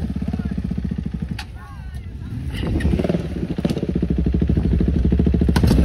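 Heavy enduro motorcycles race along a dirt trail during an enduro challenge in Vermosa, Cavite, engines revving and droning close by with clattering and thumps over rough ground, while people shout excitedly over the noise.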